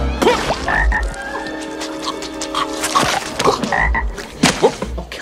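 Cartoonish frog croaks from a movie scene, several loud bursts over a steady music and effects bed, with a voice briefly audible.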